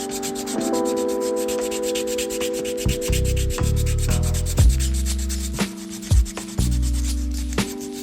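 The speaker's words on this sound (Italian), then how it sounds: "come mia abitudine, vado a levigare un po' il tutto" Sanding a carved wooden egi squid lure by hand, with steady, loud, close rubbing strokes under a sustained tonal hum and occasional heavier scrapes, no speech.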